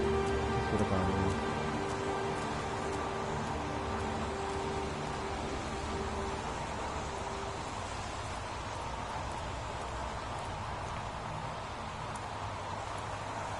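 Steady rain falls in the video game Heavy Rain, a dense continuous patter with a faint low tone early on, heard alone without talk.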